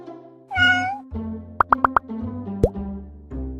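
A cartoon cat gives a rising, tonal meow, followed by four quick plopping pops and a single sharper plop, all crisp and close with quiet gaps between.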